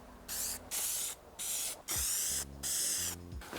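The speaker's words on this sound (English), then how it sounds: "I'm gonna spray them with the spray filler with a paint gun again." A paint gun sprays filler primer onto a car body in five or six sharp hissing bursts separated by short pauses, close and loud.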